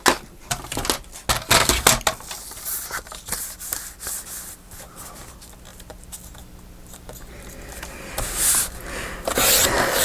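Thin lightweight paper being cut to shape for a pocket signature, a run of quick crisp snips and rustling handling, close and fairly quiet, with a softer stretch before louder cuts near the end.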